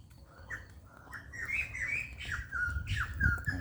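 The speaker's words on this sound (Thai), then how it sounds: "นกร้องเช้าๆ" Birds chirp and sing in a lively morning chorus at a resort in Thep Sathit, Thailand, with repeated bright calls over a soft ambient background and no voices.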